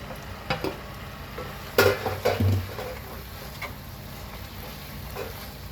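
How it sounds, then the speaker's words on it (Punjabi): Fried okra stirred into sizzling masala in a pan, with a soft frying hiss under a few scraping spoon strokes and clatters, fairly quiet. "ਹੁਣ ਆਪਾਂ ਇਹਦੇ ਵਿੱਚ ਪਾ ਦਾਂਗੇ ਭਿੰਡੀਆਂ ਜਿਹੜੀਆਂ ਆਪਾਂ ਫਰਾਈ ਕਰਕੇ ਰੱਖੀਆਂ"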